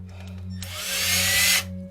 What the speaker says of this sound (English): I'm gonna bitch out a little bit and just use my drill.